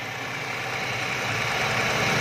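A 2006 Daewoo Matiz car engine idles with a steady, even mechanical hum and faint knocking pulses, heard close and unbroken throughout with no talking.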